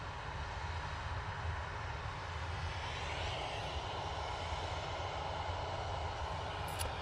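A Ryanair jet airliner bound for Paris Beauvais runs its engines at an airport, giving a continuous, even roar and low rumble throughout, with no voices.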